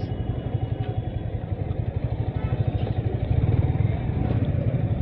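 A motorcycle idles close by while it is parked, its engine putting out a steady rapid pulsing chug that grows a little louder partway through, with no clear talk over it.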